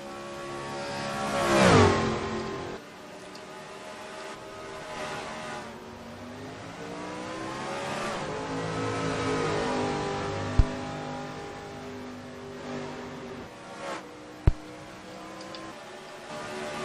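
Race cars at speed on the Charlotte oval during practice, one roaring close past early on with a sharp engine swell, then a steady layered drone of several cars running together in a train down the backstretch, with a few brief clicks.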